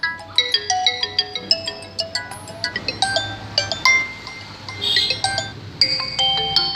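A Vivo smartphone plays its incoming-call ringtone loudly and close: a bright, fast run of chiming melodic notes that keeps repeating for several seconds, with no talking.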